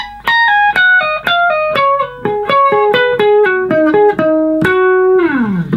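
A distorted electric guitar plays a solo phrase, with a quick run of pull-offs and descending notes ending in a sustained bend that slides down, loud and alone.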